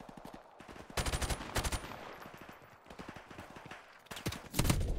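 Rapid automatic gunfire in Call of Duty 4: Modern Warfare Remastered, with bursts of shots crackling in quick rhythmic volleys, several louder clusters standing out against quieter stretches of single reports.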